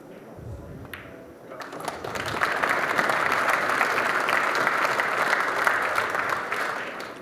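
A crowd at a 9-ball pool tournament breaks into sustained applause after a break and run, swelling from a quiet room with a few early claps into broad, even clapping that holds steady.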